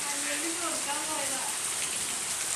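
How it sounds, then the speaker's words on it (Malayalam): Heavy monsoon rain pours down in a dense, even hiss of drops on surfaces, with a voice speaking faintly beneath the downpour. "നല്ല അടിപൊളി മഴ പെയ്യട്ടോ"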